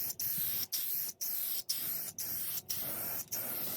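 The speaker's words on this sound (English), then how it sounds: "Put a nice coat of black paint on it" An aerosol can sprays black paint onto a Spam hive in close, steady hissing bursts, each cut by a short pause, about seven in a row.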